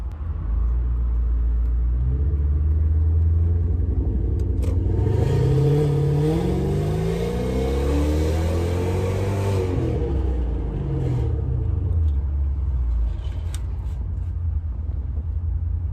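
A Lexus LS430 fitted with a new Flowmaster exhaust revs up, its deep rumbling idle rising into a swelling rev that peaks mid-way and then falls back to a steady, throaty idle close by.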